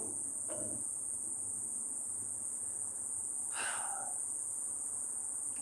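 Cicadas buzz in a constant, loud, high-pitched drone that runs unbroken throughout, with a couple of brief rustling sounds nearby.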